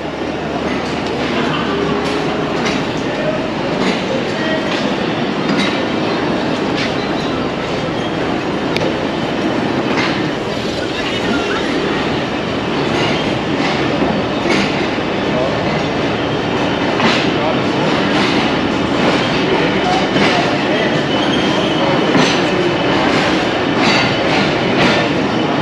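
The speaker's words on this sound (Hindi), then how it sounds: "रवाना हो चुकी है ट्रेन गुजरात रेलवे स्टेशन से।" A Pakistani passenger train rolls out of Gujrat railway station, its wheels clattering on the rails in a steady rumble heard from inside a coach, with rhythmic clicks and speech over the noise.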